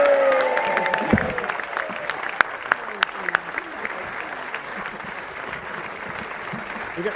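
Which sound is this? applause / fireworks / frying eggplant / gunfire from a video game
applause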